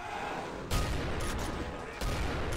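Chaingunner enemies in Doom RTX fire rapid, loud bursts of chaingun fire, a dense clattering barrage with a fresh heavy burst near the end, close and intense.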